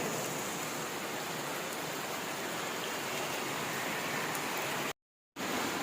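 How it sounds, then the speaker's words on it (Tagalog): Steady, heavy rain pours down as a constant broadband hiss, briefly cutting out near the end before resuming. "umuulan ngayon"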